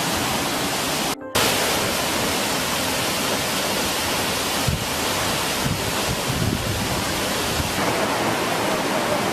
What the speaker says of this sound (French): nous arrivons à la deuxième cascade